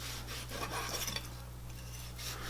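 Knife slicing through cooked steak, cutting straight down across pre-cut meat, gives a soft continuous rasping scrape against a steady low hum, with no talking.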